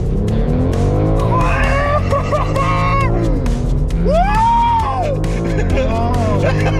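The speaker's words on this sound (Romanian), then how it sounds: "ești pregătită de launch control?" A BMW M4 launches under launch control: the engine roars loudly and its pitch sweeps up through repeated gear-driven climbs, with what sounds like brief tire squeal near the middle.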